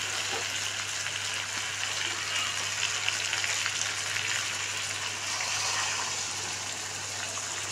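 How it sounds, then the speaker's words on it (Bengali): Hot water poured into a simmering curry makes a continuous close rushing, gushing pour mixed with bubbling, steady throughout without talk. "তরকারিতে আমি গরম জলটা দিচ্ছি"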